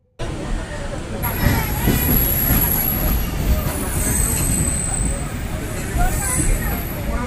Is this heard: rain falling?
no